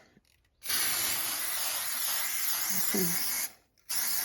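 Aerosol spray paint hisses steadily onto a door for about three seconds, a close, continuous burst with a short pause before spraying resumes; a voice speaks briefly over it.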